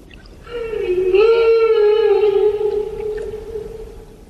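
A single long, loud humpback whale call, a tonal moan that holds steady and then slowly fades, rich in harmonics, heard alone underwater in tropical seas.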